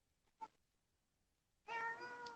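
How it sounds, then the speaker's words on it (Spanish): A pet cat meows indoors, one short faint cry followed by a longer, louder drawn-out meow close to the microphone, in an otherwise quiet room. "Ay, ahí se escucha mi gato."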